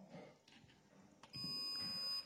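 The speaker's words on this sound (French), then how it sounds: "On va se mettre ici en position bip. Et on va tester la continuité du fusible." A multimeter set to continuity mode beeps while testing a fuse: soft handling clicks, then a single steady electronic tone switching on and holding for about a second, fairly quiet and close.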